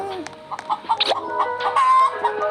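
A chicken clucks in quick, choppy bursts with a few higher squawks, loud and close, with no other sounds around it, in the Roblox game Jockey.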